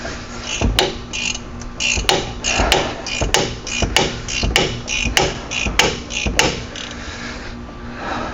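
A hammer tapping a socket into place during a driver-side wheel hub and axle shaft replacement on a 2011-18 Ram 1500. About ten sharp metallic strikes ring out at an uneven pace, close and loud, between softer clinks and handling noise.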